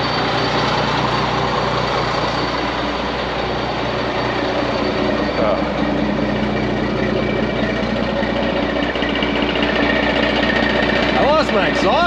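Vehicle engine running straight-piped after losing its exhaust, a loud, raw, continuous rumble throughout with a brief rising whine near the end.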